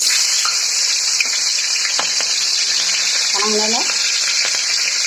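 Cloves and green chilies fry in oil for a biriyani, giving a steady bright sizzle throughout with a few faint stirring clinks and a brief tonal scrape near the middle.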